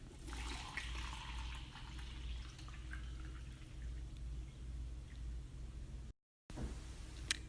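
Water or coffee splashes out of a cup in a steady, continuous pour, broad and fairly close. It runs for about six seconds, breaks off in a short gap, then a brief splash returns.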